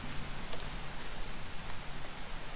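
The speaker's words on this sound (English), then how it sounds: "Now you can see it is just pouring down rain." Heavy rain pouring down steadily outdoors, a dense continuous hiss of drops with scattered ticks and spatters on nearby surfaces, no talk.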